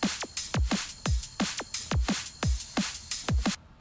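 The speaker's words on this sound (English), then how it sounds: "Layered it with a crash, layered it with these lasers. Full drums sound like this." A neurofunk drum loop built in FL Studio, with a crash and laser effects layered over it: heavy kicks and snares in a steady rhythm, each hit trailing a downward laser sweep. It plays loud and close with no voices, then cuts out at the end.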